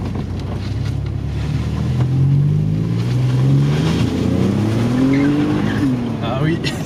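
A Maserati sedan's engine revving hard under throttle, a loud, close rising and falling growl with climbing pitch sweeps over several seconds, steady and dominant.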